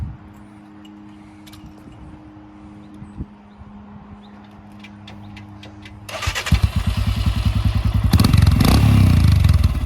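2022 Royal Enfield Himalayan motorcycle fitted with a Hitchcocks carb, a few quiet clicks and then the starter cranking before the single-cylinder engine catches, idling with a thumping rhythm and then revving louder, close up.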